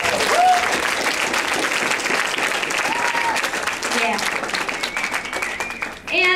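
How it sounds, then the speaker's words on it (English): An audience at a meeting gives a steady round of applause, dense clapping throughout that fades near the end as voices come in. "give Felicia, Seth, and DJ a round of applause"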